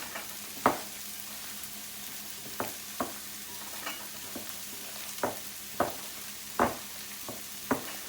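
Beefburger mixture being stirred and worked together in a bowl for a classic pub burger, with soft repeated squelching and scraping strokes at an uneven pace, close and fairly quiet, no talking.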